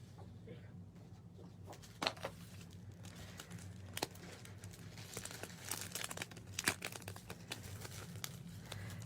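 Sheet of white paper being handled and crinkled at a craft table, with soft rustles and a few sharper crackles throughout over a steady low hum, close by and moderately quiet.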